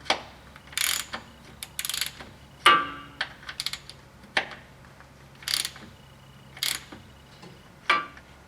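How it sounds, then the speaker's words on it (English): Small hand pump filling a truck's rear axle with oil during a Silverado 2500HD service, giving a series of short mechanical clicking and ratcheting strokes at an irregular pace, close by and fairly quiet, with no talk. "Just gonna pump it in there with my little pump."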